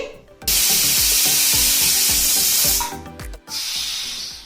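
Loud pressure cooker whistle with a steady rush of escaping steam on high flame, cooking chana dal and coconut payasam, briefly interrupted midway, over a rhythmic rattling beneath.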